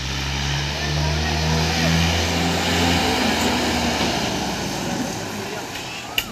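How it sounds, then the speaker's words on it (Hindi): A Mahindra 575 tractor's diesel engine revved hard, a loud, steady roaring drone with a low throbbing hum, heard up close and outdoors. "रेस दे रहा पूरी"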